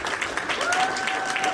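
A youth conference audience applauds, a dense steady patter of clapping that fills the whole moment without a break.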